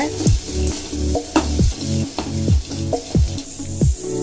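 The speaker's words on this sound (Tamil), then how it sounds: "லைட்டா இதனோட பச்சை வாசனை போற மாதிரி வதக்கிக்கோங்க." Masala for chickpea sundal being sautéed and stirred in a pan, with a spoon scraping in a rhythmic series of strokes over a steady close sizzle, no talking.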